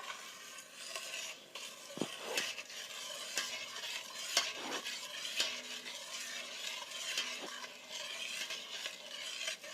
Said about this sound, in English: So we now have added our 4 cups of sugar. We'll now go ahead and stir it.